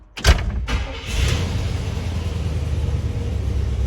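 Ecto-1 car engine catches after a brief crank and settles into a steady low rumbling idle, close and continuous, running somewhat rough, the first start in a decade.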